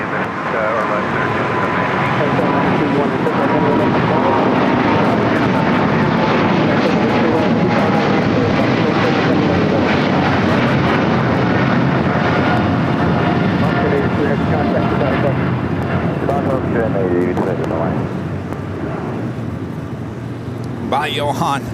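A jet airliner rolls on runway 25 right at LAX, a loud continuous engine roar with a faint rising whine, steady throughout and fading slightly near the end, with radio chatter and talk over it.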